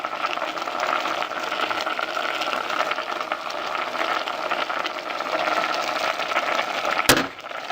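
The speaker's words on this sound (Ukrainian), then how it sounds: "І виливаю оливку в олії." Olive oil pours into a pan of fish and vegetables, giving a steady, close sizzling and bubbling that holds at an even level and ends with a brief clatter.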